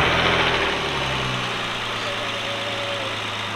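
A 2018 Nissan Maxima engine with a Stillen aftermarket intake idles steadily with a low, even rumble, slightly louder at the start before settling into a constant drone.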